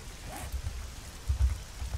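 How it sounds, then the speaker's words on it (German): Rain falling in the survival video game 7 Days to Die, a soft, steady patter with a few slightly louder low rumbles, faint and without speech. "jetzt regnet es ja aber richtig"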